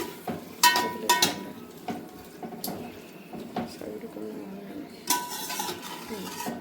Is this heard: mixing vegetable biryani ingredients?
yes